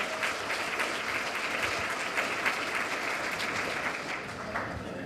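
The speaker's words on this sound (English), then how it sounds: "So give you guys a round of applause, it's excellent." A school technology celebration audience gives sustained applause, a dense, even wash of clapping with a few voices underneath.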